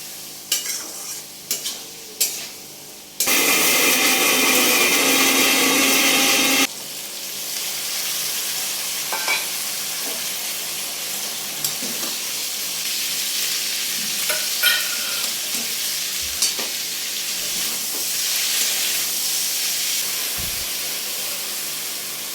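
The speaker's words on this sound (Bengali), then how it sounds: "এখন একটু আলাদা করে আলুটা ভেজে নিচ্ছি।" Potatoes fry in a pan with a loud burst of sizzle and steam hiss, then settle into a steady, softer crackle broken by occasional stirring scrapes.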